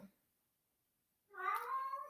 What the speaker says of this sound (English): Oh, sorry, my cat's going crazy.